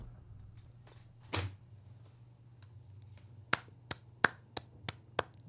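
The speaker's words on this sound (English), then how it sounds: "You're getting a little clap from me there." Sharp hand claps or snaps made by someone playing Alan Wake 2: one softer burst, then about six crisp, close, evenly spaced cracks over a low steady hum, with no talking.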